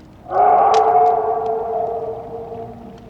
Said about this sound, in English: the werewolf's howl that sounds more like an agonizing guttural moan than anything else